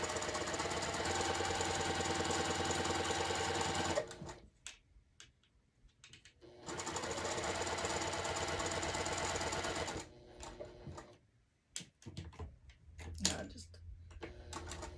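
A Juki sewing machine stitches through a quilt in two long steady runs of rapid, loud mechanical whirring, separated by a quieter pause with handling noises and brief talk.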